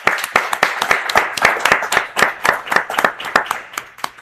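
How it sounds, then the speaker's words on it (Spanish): Attendees clap at a live talk event on emotional intelligence, faith and books, with crisp, close, individually distinct hand claps in a brisk, irregular patter that continues steadily without fading. "Un aplauso, por favor,"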